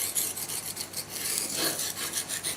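Steel blade rasping back and forth across a fine-grit Ariège Pyrenees whetstone, roughly 1200–1500 grit, as a steady scraping hiss with rhythmic strokes, close and fairly quiet with no talk.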